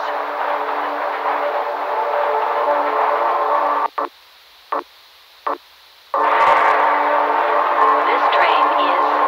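A tram rumbles along in the Half-Life Black Mesa facility, a loud steady mechanical drone that cuts out briefly with a few short bursts before resuming, with a voice speaking over parts of it.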